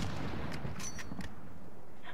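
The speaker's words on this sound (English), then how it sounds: "Mortars? Mortars." Mortar fire in Call of Duty MW, several sharp distant thumps and cracks in quick succession over a steady windy rumble, then fading into the wind.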